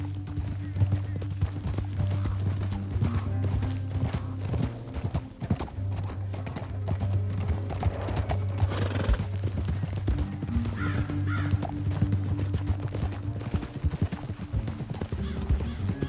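Horses trot along a canyon trail, hooves clip-clopping in a steady, close rhythm over a low rumble for the whole stretch, with faint voices and a whinny mixed in.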